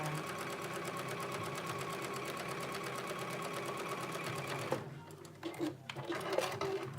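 A sewing machine basting fabric runs in a fast steady whirring rattle for several seconds, then stops, leaving faint handling clicks and rustles.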